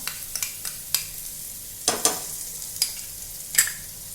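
Ground green chili and garlic paste sizzles in a hot pan with a steady frying hiss, broken by several sharp scrapes and stirs of a spatula. No one speaks.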